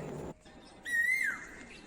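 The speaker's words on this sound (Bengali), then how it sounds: "সারাদিন ফ্রিতেই নাম না জানা চেনা অচেনা লক্ষ লক্ষ পাখির কলতান শুনতে পাবেন" A single bird gives a short, clear whistled call outdoors in the forested hills around Bangriposi, heard alone against faint background noise.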